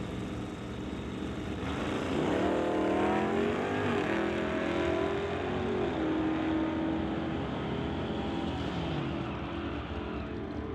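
Two 1981 Chevrolet Malibu cars at an NHRA bracket drag race, engines roaring loud and steady as they launch and pull away, revs climbing and shifting over several seconds.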